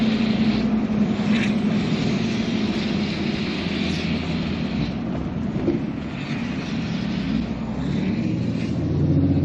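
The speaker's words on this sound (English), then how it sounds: "Wow, that exhaust brake just slowed us right down." A 5th-generation 6.7 Cummins diesel pickup with a deleted exhaust system slows under its exhaust brake, giving a steady, loud, broad roar that continues evenly throughout with no voices.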